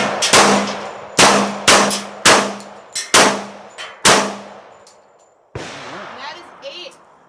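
An American Tactical FXH 45 1911 pistol fired one-handed with .45 ACP rounds hitting steel: six sharp shots in a steady rhythm, each ringing with a metallic clang that decays, then a later, softer ringing hit.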